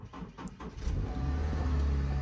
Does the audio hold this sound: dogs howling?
no